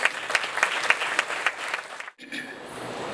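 An audience at a literary awards ceremony applauds for a jury presenter, bright sustained clapping from many hands that cuts off abruptly, followed by quieter room sound.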